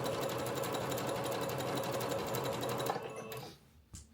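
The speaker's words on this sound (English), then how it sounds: "I'm going to fold it in half, right sides together, and then just sew it." A sewing machine runs steadily, stitching folded bag fabric right sides together in a continuous close hum for about three seconds, then winds down and stops, followed by a brief soft handling noise.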